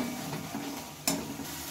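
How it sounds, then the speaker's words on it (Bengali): Masala spices being sautéed in a pan over lowered heat for a chicken dish, a soft low sizzle with stirring scrapes and one sharper clink near the end. "আঁচটা কমিয়ে দিয়ে মশলাটা কষিয়ে নেব"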